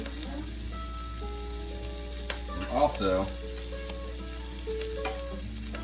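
Steady sizzling of butter and rice frying in a pan, a soft continuous crackle with faint background hum and a brief spoken phrase.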